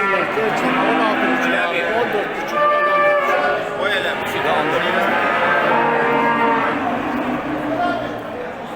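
Cattle at a livestock market in Kastamonu, Turkey, lowing in several long, drawn-out moos from fairly close by, with people talking over and between the calls.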